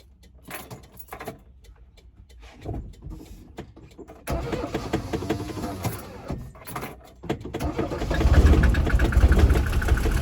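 A stalling Mercedes with a fuel delivery problem sputters and cranks on a hill, then restarts, its engine revving louder and rumbling steadily near the end, with some key jangling early on.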